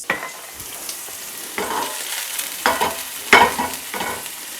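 Snails and steak sear in a hot pan, the sizzle swelling in bursts each time the food is stirred or turned, loud and close, with no speech.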